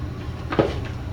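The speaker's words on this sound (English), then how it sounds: "Bosch drawer." A Bosch tool drawer slides and bumps shut in a woodworking shop, one brief muffled knock over a steady low background hum.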